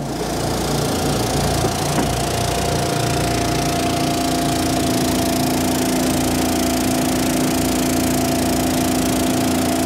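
A York Firewood Axis firewood processor runs at a furnace gathering, its engine droning with a steady mid-pitched hum and mechanical conveyor clatter, loud and continuous throughout.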